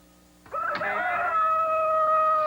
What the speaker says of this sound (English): And so, at next morning's cockcrow